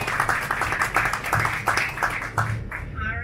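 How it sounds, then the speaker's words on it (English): A crowd gives a round of applause at the introduction of the 2019 Red Bull KTM factory flat track racing team: dense, steady clapping that fills the moment, with a faint voice mixed in and a quick fade at the end. "that deserves another round of applause"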